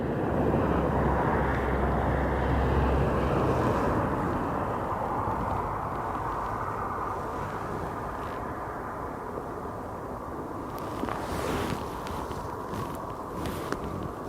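An easyJet passenger jet departs Aberdeen Airport for London, its engines a steady broad roar that is loudest at first and slowly fades as it climbs away, with light wind buffeting the microphone.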